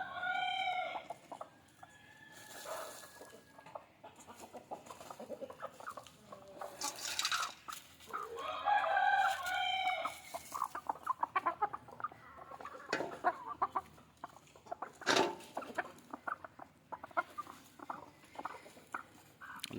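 Native country chickens cluck softly in short, irregular bursts while scratching through litter for food at midday, with a light pattering of scratching and pecking between the calls.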